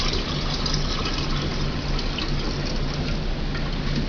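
Young coconut water is poured, strained, into a gallon container, giving a steady continuous splashing and trickling stream that stays even and fairly close throughout, with no talking.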